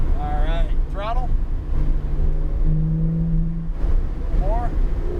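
A Porsche 911 GT3 accelerates on a race track, its engine a steady, loud drone heard from inside the car with wind rush, while a voice speaks briefly over it.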